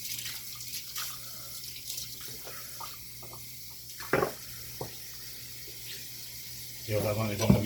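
Washing at a kitchen sink with the tap running, a faint steady trickle of water with a few clatters of dishes, and a louder gush near the end.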